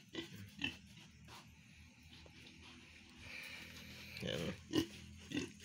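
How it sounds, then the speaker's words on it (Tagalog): Pigs in a piggery suck and slurp water from a drinker, with faint wet sucks and occasional grunts and snorts scattered through, while someone speaks briefly nearby. "Kasi sumisip-sip siya sa tubig eh."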